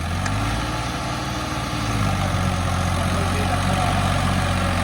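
Low, steady rumble of a heavy Ford tractor engine running nearby on a farm, a constant drone that grows slightly louder midway, with no voices.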